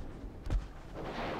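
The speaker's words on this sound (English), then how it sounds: "Even the 4-inch guns are opening up at this point." A 4-inch naval gun fires once in a naval battle game, a single short low boom over a quiet rumbling background.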